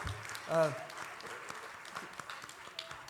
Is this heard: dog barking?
no